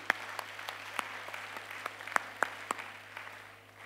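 A church congregation claps in sparse, uneven hand claps, faint and somewhat distant over a steady low hum, thinning out toward the end.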